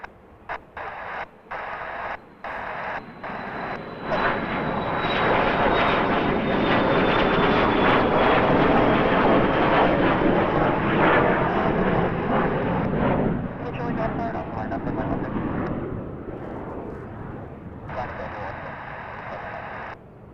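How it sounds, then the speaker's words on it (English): An Embraer Praetor 500 business jet departs runway 16 at Kelowna airport, its engine roar swelling loud and close with a high whine, then fading; radio chatter sits in the background. "So that was an Embraer Praetor 500 Air Sprint 814."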